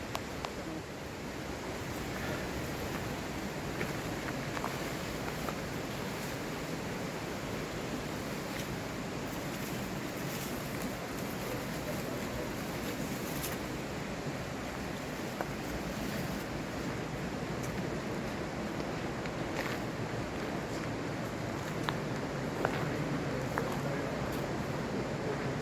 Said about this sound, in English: sound of the river is echoing into here.